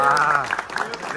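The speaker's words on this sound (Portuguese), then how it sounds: "Uma salva de palmas aí pro discurso do colega aí" Applause from people attending an air-conditioning course session, praising a speech, heard briefly under an overlapping speaking voice.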